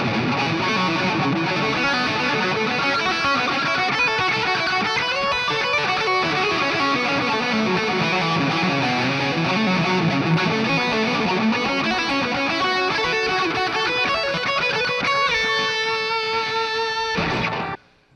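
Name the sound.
Epiphone Les Paul electric guitar playing pentatonic licks over backing track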